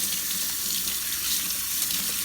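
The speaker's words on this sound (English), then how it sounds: "And I get each leaf and I rinse them off one by one, drain a little water off a little bit" Collard green leaves are rinsed one at a time under running tap water, a steady close hiss of water from the faucet with no talking.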